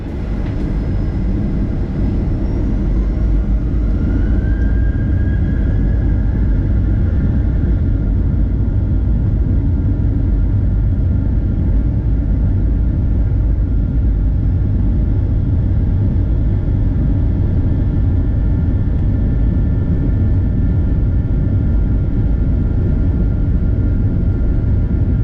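A steady, loud low rumble fills a KLM Boeing 787-9 airliner cabin during takeoff, a dense continuous engine and airframe roar that stays close and even throughout, with a faint rising whine partway through and no talking.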